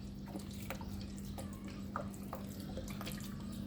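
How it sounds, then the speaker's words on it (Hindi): Water added to a bowl of raw chicken pieces soaked in vinegar, soft trickling and scattered drips over a steady low kitchen hum, no voices. "अब पानी भी ऐड करूँगी और ये पानी में जो डिप हो जाए"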